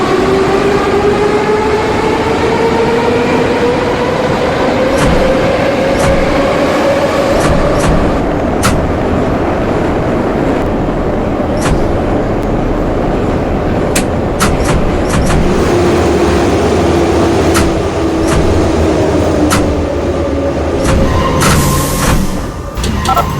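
Metro train ride on line M2 in the Kyivmetromasters video game, with a steady loud rumble of a moving train throughout, a rising and falling motor whine, and repeated sharp clicks.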